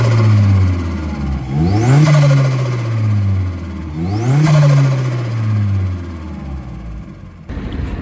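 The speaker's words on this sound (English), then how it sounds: "a Piper Cross oversized induction kit, which sounds lovely" Vauxhall Astra VXR, stage 2 at around 320 bhp, with a Pipercross oversized induction kit, revved twice in quick sharp blips that rise and fall back to a loud close idle, with no talk.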